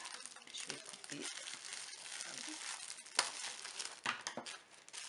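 Wrapping on a craft swap parcel crinkles and crackles as it is opened, a close, steady rustle with sharper crunches near the end and some quiet handling noise.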